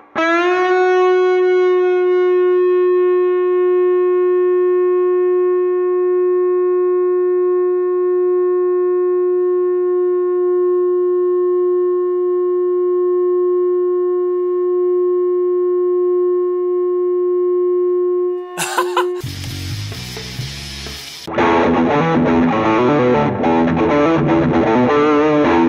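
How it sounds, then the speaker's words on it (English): Gibson Les Paul electric guitar rings out one long sustained clean note with steady overtones for nearly twenty seconds, then bursts into loud distorted, effects-heavy chords and a wash of processed noise. "This is a Gibson Les Paul, and it's probably the best guitar I've ever played by a mile."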